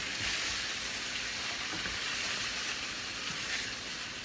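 A thickened cornstarch sauce sizzles and bubbles steadily in a hot pan, giving a continuous close hiss with faint stirring, and no voices.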